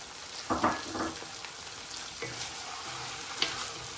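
Peppers and peas frying in oil for a seafood, chorizo and chicken paella: a soft, steady sizzle with a few stirring scrapes and clicks, fairly quiet and close, with no talking.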